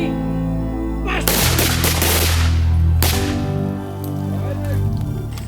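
Two gunshots ring out from a shooter in a prone position, each a loud sharp crack with a long decaying tail, about two seconds apart, over a steady low hum.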